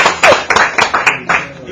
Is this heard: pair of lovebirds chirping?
no